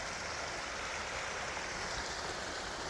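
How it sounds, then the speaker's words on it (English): A creek flows beneath an old railroad trestle near Emlenton, Pennsylvania, giving a steady, broadband rushing of water that holds even and unbroken throughout, with no voices. "Got some birch polypore, and here's the creek."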